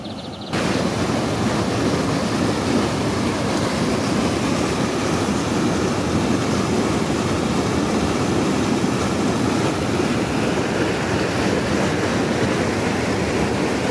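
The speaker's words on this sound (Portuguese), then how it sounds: "Força da água muito forte aqui." Strong river current in a deep pool, a loud, continuous rushing roar that holds steady and close throughout, with no voices.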